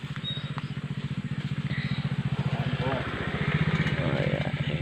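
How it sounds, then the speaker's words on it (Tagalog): A motorcycle engine throbs steadily behind on a farm path in a rambutan orchard, its rapid pulsing putter holding close and loud throughout, with faint outdoor background noise. "may motor tayo nasa likod"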